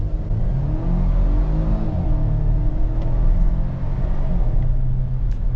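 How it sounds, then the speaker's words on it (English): A 2020 Volvo XC60 T6 Inscription accelerating, with a steady low engine rumble rising and easing as the transmission shifts. The sound is continuous and fairly loud, heard from inside the car with no talk. "Now you can hear how the transmission shifts, the engine sounds."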